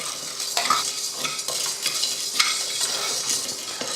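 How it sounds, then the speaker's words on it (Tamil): Rice, urad dal and chana dal dry roast in a hot pan, producing a loud, continuous rustling sizzle broken by repeated scraping stir strokes; no voices are heard. "அரிசி, உளுந்து, அப்புறமா கடலைப்பருப்பு 3யுமே நல்லா பொன்னிறமாக வறுத்துருவோம்"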